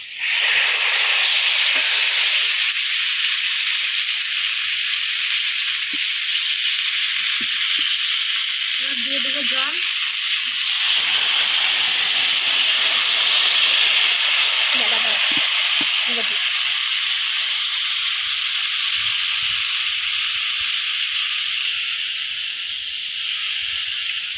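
Hot oil hisses loudly and steadily in a pan as fried pomfret goes in over fried potatoes for a spicy fish curry, a continuous bright sizzle that barely dips, with faint brief voice fragments underneath.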